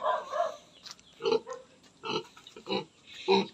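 Pig grunts come in short bursts, repeated several times with brief gaps, close and fairly loud, with no talking.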